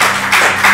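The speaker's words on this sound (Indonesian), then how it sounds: "Tepuk tangan dulu." Brief audience applause at a gathering with a colonel in Maluku, a quick burst of hand claps rising in two swells, close and fairly loud.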